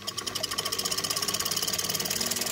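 A Singer 15-91 sewing machine runs without a needle, its motor fan giving off a small steady rattling whir from dirt, with rapid even pulsing throughout at close range.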